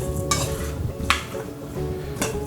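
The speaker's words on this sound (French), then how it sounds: "Et on va bien mélanger le tout ensemble jusqu'à temps que ce soit tous les aliments aient bien enrobé" Ingredients for a warm chicken and feta salad being stirred and tossed together in a pan or bowl, a close continuous low rustling and sizzle punctuated by three sharp scraping clacks of a utensil.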